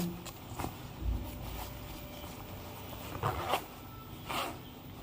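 A metal zipper on 5.11 Ridge tactical pants is pulled up and down several times, giving short raspy zips separated by brief pauses, close and fairly quiet.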